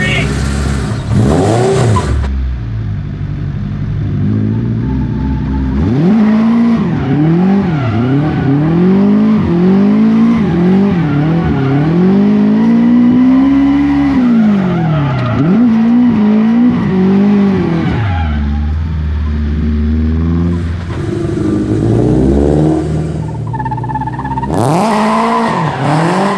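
A Nissan S13 with a high-compression K-series engine revs hard on track, rising and falling through the gears with tire squeal, heard loud and fairly close with people talking over parts of it.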